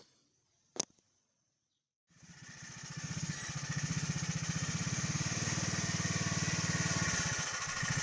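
A brief click, then a Polaris Sportsman 420cc ATV from 2004 fires up and runs at a steady, rumbling idle. The engine sits in two-wheel drive with the rear wheels spinning; it sounds close and continuous, with no talking.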